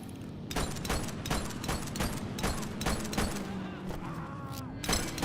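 Repeated gunshots crack out in a rapid, irregular series of loud bursts, close by, over a low droning background, in the police simulator game The Precinct.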